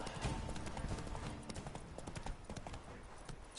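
Horse hooves clip-clopping in The Witcher 3: Blood and Wine, a steady galloping rhythm of close, fairly loud hoofbeats heard alone over game ambience.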